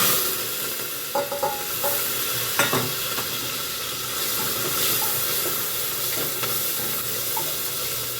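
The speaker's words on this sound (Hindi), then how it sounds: "ऑयल मेरा गर्म हो गया तो मैं जीरा डाल दूँगी इसमें।" Cumin seeds sizzle in hot oil in a home kitchen pan, with a continuous frying hiss and a few sharp pops and stirring clicks, near and fairly loud, with no talk.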